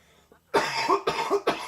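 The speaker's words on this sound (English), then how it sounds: "It's all this freaking cough that's still going on" A person with a lingering cough lets out a string of three or four harsh, close coughs after a short pause, loud and alone with no talk.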